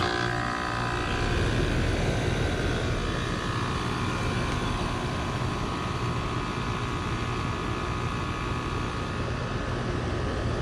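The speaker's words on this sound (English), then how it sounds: "All right, got the new motor installed. Fire up." An older air conditioning unit runs with a newly installed fan motor, giving a loud, steady, broadband whooshing drone that holds constant throughout.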